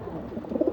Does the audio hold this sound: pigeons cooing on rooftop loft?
yes